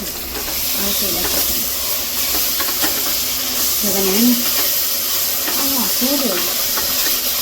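Ingredients for biryani, with ginger-garlic paste among them, sizzle and hiss loudly in a pan while being stirred. A steady, close frying noise runs throughout, and a person talks over it.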